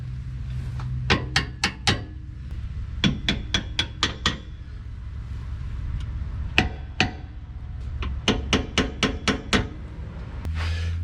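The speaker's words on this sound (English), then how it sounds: "something like this where you just need to tap a bolt, it's beautiful" A small hammer-like root-digging tool taps a bolt on an old Jeep TJ's lower control arm, sounding as sharp metallic clinks in quick clusters of three to five, with short pauses between the groups.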